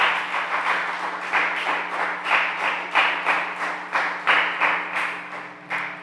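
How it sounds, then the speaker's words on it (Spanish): A church congregation at a Sunday service claps in unison for the King, a steady rhythm of sharp, near hand claps repeating about twice per second over a faint low hum. "podemos darle palmas a ese Rey bendito"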